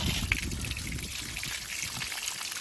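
Hot water running steadily from a tap, a continuous close splashing trickle with no other sounds.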